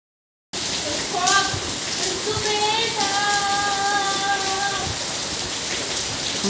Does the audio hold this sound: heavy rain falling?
yes